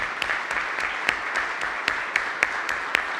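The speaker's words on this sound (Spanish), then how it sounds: "pues entonces la despedimos con un gran aplauso" Applause from the audience at an anticorruption conference after a keynote talk, moderate and somewhat thin, with a few sharper claps standing out from a steady patter for about three seconds.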